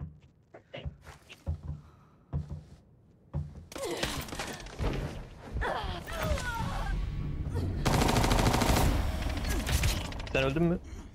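Gunfire in the video game Arena Breakout comes in quick single shots early on, then dense bursts and sustained automatic fire. Other game sounds are heard throughout, along with players' voices.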